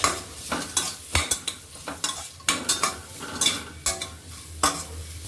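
Repeated scraping stirs and sharp clinks of a spoon in a pan of sautéing sliced onions over a soft sizzle, close by and irregular, with no talking.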